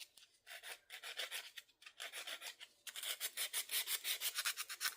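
Old rusty screwdrivers are scrubbed hard to strip rust, giving quick rhythmic rasping strokes in two runs split by a brief pause, the second run faster and more even.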